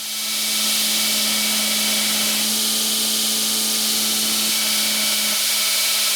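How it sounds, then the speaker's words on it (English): A grinder roughs out the profile of a 1000-layer Damascus steel katana blade, giving a loud, continuous, close-up roar with a steady whining tone and no talking. "we're going to go to the grinder and just kind of rough in the shape of the sword"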